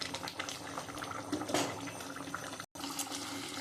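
Lata fish curry (jhal) simmering in a pot, a steady bubbling and hissing boil with a brief gap near the end, fairly close and without speech.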